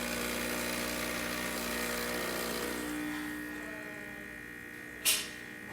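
A serviced Gaggia Classic espresso machine, adjusted after failing to build pressure, pulls a shot with a steady motorised pump drone that fades partway through, ending in a brief sharp hiss near the close.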